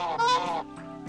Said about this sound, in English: it's the one that honked because it's a goose.